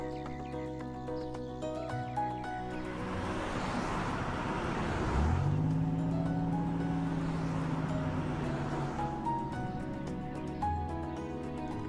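Cartoon car driving around in circles on a trip, a continuous engine hum with rising and falling motor whine, mid-distance and steady against background music.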